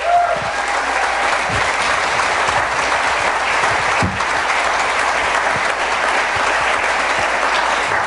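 A crowd at an event claps steadily for Spokane Valley city councilmen, producing a continuous, fairly loud wash of applause with no voices over it.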